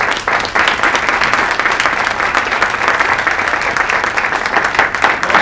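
A room full of people applauds program graduates standing before them, a dense, steady wash of clapping that stays loud from start to finish with no pauses.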